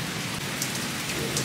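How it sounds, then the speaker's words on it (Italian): Heavy summer rain pours down hard and steady in Italy, a dense, close hiss of drops drumming on surfaces with no voices over it. "perché sta piovendo a dirotto"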